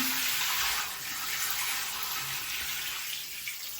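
Water streams steadily from a bathroom sink faucet, a broad continuous hiss and splash that stays close and even throughout with no voices.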